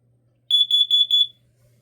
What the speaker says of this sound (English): Warning, carbon monoxide.